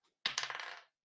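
Dice roll during a tabletop D&D game, clattering onto a hard surface in a single quick burst of rapid bounces that fades out within about half a second, alone and close.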